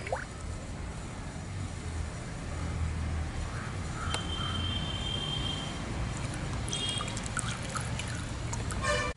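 About 1.5 litres of wood-pressed coconut oil poured into an iron wok, giving a steady close trickle and glug that runs continuously over a faint background hiss, with brief clinks near the end.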